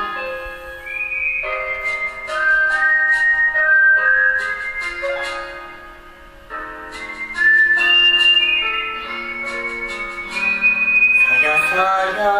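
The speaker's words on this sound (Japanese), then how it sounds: "口笛を吹いて耳を澄まして見て" Someone whistles a lilting melody alone, clear and close, with phrases separated by short pauses and a few bright chime-like notes near the end.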